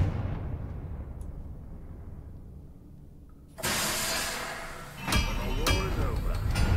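A Confringo fire spell bursts in a wizarding video game, a sudden loud blast that gives way to a roaring, hissing rumble, followed by a second heavy burst and sustained crackling noise.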